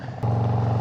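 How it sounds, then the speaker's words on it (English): A 2019 Harley-Davidson FXLR Low Rider with a Bassani exhaust burbling on throttle roll-off, a close, loud, rumbling low exhaust note that swells suddenly and holds a pulsing rhythm for under a second. "Oh, that roll off and that throttle sounds nice."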